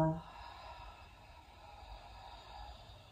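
A slow, soft exhale through the mouth during yoga breathing, a brief breathy onset fading into a faint, quiet airy tail.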